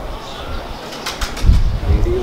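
Close wing flaps burst out, then soft low pigeon coos follow, with faint voices in the background.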